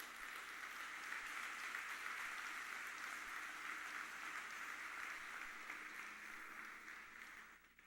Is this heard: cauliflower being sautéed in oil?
no